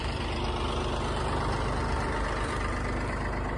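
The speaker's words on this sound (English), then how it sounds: "Right now I'm hooked up to the tractor." Tractor engine idling outdoors at a land-clearing site, a steady low rumble with a constant droning hum and no voices.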